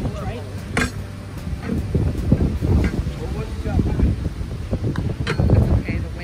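Strong gusts buffet an outdoor microphone with a steady low rumble and roar, while people talk close by through much of it.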